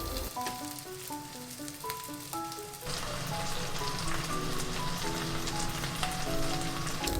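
Meat sizzles in a frying pan over gentle, medium-low heat, a constant crackling hiss under a soft melodic tune, growing slightly louder partway through.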